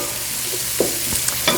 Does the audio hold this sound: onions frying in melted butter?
yes